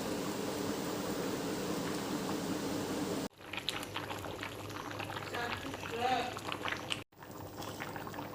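A pot of khichuri with salt added bubbles and simmers with a soft, steady hiss and crackle, heard close up. The sound cuts off briefly twice.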